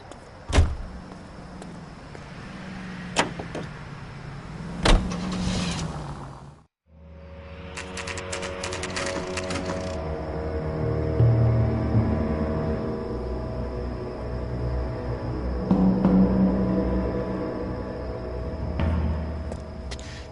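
A car driven through the streets in the 1940s Los Angeles crime game L.A. Noire, a steady engine rumble with a door slam and clunks near the start, then a sustained droning hum under faint background music.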